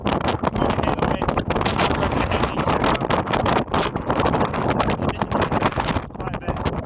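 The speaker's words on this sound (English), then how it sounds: "Then probably hear the wind." Strong wind buffets the microphone on an exposed hilltop while walking up Pen-y-ghent, a loud, continuous roaring rush with gusty pulses throughout.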